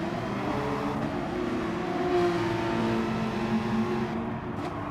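Race cars in GT Sport, including a Subaru, engines droning with a steady mid-pitched tone that shifts slightly through a left-hand corner, continuous and fairly loud with no talking.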